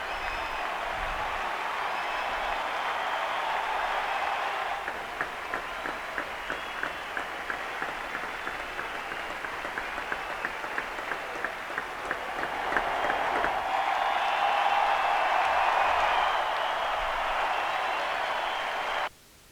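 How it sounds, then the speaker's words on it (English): A baseball crowd cheering for Derek Jeter after an infield hit on a Baltimore chop, a sustained roar with applause and scattered clapping that swells near the end. "Judging from the roar of that crowd"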